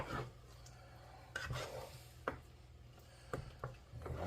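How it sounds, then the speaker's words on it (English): Ingredients for a slow-cooked pomodoro tomato sauce are stirred and mixed in a pot, with soft scraping and a few sharp utensil knocks over a low steady background hum; no talking. "Now mix everything together."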